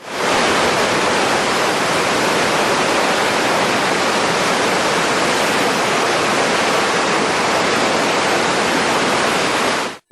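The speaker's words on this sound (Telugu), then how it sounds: "జలాశయాల్లోకి భారీగా చేరిన నీరు గేట్లను దాటుకుని ఉప్పొంగి దూకుతూ దిగువకు పరుగులిడుతోంది" Floodwater from full reservoirs gushes over the dam gates in a loud, unbroken roar of churning water that stays close and constant, with no voices heard.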